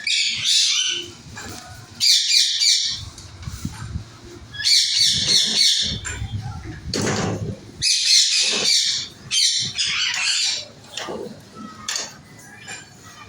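Parrots in a rooftop shed give repeated bursts of loud, harsh squawks and shrill chirps in clustered phrases, close by, with brief quieter gaps and some low background noise between calls.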